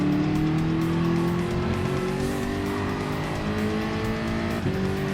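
Gr.3 endurance race cars at Mount Panorama in Gran Turismo Sport scream past in a steady, loud engine whine that climbs in pitch, joined by tire squeal near the end.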